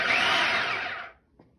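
Food processor pulsing a Bakewell tart pastry mixture, a single loud, close whirring burst just over a second long that spins down to silence.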